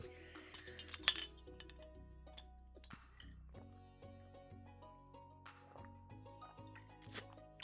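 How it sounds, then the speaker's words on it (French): A water bottle picked up and handled, with a sharp clink, then light tapping and plastic handling knocks over a quiet background of sustained musical tones. "je prends la bouteille d'eau qui est derrière"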